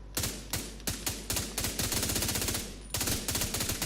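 An M4 assault rifle in a looter-shooter game fires in rapid, evenly spaced shots, with one short pause partway through, all close and loud with no talk.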